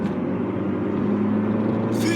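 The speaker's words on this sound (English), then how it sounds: "VTEC just kicked in, yo!" A car engine drones at a steady low rumble while driving, sustained and loud inside the cabin, with a brief brighter burst at the end.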